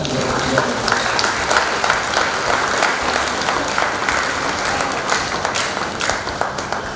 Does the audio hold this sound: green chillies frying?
no